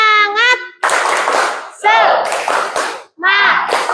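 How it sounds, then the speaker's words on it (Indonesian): Children in a classroom clap together in a rhythmic spirit-clapping cheer, loud bursts of group clapping alternating with their chanted voices, close and energetic. "Ayo kita tepuk semangat dulu ya"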